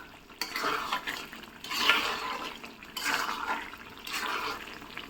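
Garlic for a garlic pickle is stirred in a pan in slow, repeated scraping strokes over a soft steady sizzle, close and moderately quiet, with no voices.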